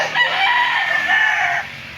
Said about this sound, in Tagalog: Yan dami pang manok dyan